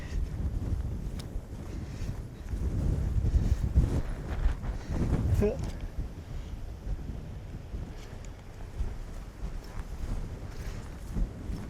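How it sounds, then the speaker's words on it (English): Gusty wind buffets the microphone outdoors on a disc golf course, a steady low rumble that swells and eases over several seconds with no voices. "Oh, hey, the wind's back."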